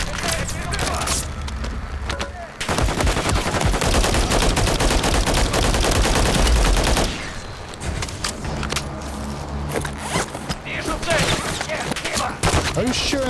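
Sustained heavy automatic gunfire in Call of Duty Modern Warfare III, dense and loud for several seconds, then easing into scattered shots beneath a voice speaking.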